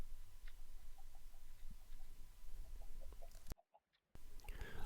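Chickens in a Minecraft farm built with water, pistons and a lever give faint, scattered game clucks over a steady hiss and a low rumble, with a short silent gap near the end.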